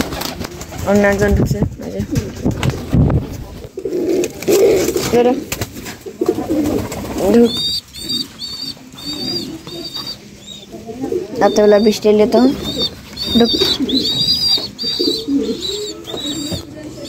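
Pigeons coo repeatedly at close range in their loft, soft throaty calls recurring in bursts under and between a man's speech, with some rustling movement.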